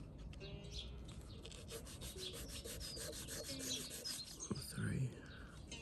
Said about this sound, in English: finish these edges on the 1000 grit